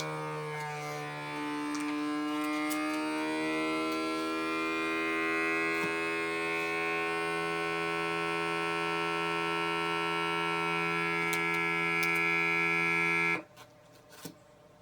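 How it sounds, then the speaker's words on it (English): A HICOZY vacuum sealer pumps the air out of a bag, a loud steady mechanical whine with strong tonal hum holding for about thirteen seconds before cutting off abruptly, followed by a few quiet clicks. "Now it's sucking the air out."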